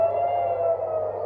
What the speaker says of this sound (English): air raid sirens in Tel Aviv